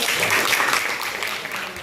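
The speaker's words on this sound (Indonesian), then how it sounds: "Tepuk tangan." Applause from a classroom audience at a teacher certification teaching session, a steady dense patter of clapping hands filling the room.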